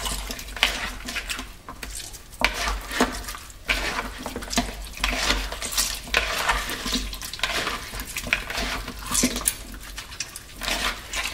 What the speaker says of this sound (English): Make sure you wash it really,